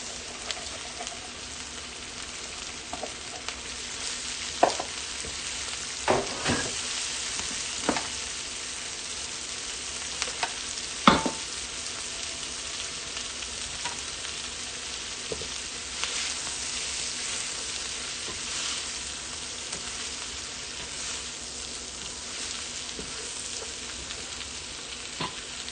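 Cabbage mix for Filipino pancit stir frying in a pan, a steady soft sizzle broken by occasional louder clinks and scrapes of stirring.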